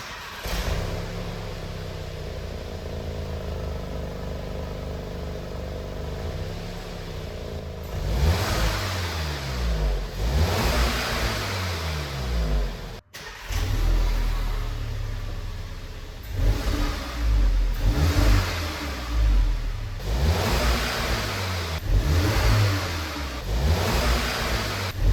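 A VW EA888 engine, freshly serviced with a new water pump and walnut-blasted intake valves, starts up and idles, then is revved repeatedly while the car sits stationary, with several rising-and-falling throttle blips, loud and close.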